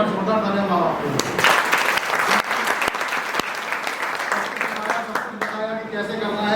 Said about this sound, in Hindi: एक बार जोरदार तालियां माँ बाप के लिए